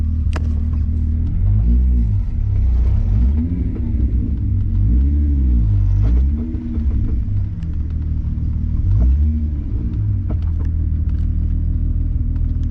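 A car's low engine rumble drones steadily throughout, with faint knocks and creaks from underneath as it rolls along a bumpy road.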